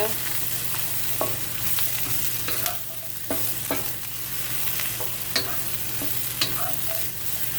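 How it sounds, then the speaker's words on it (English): Onions stir-fry in a pan for a basil eggplant dish, a steady close sizzle broken by repeated scraping stir strokes and no talking. "The onions are getting there, and they'll get a little translucent."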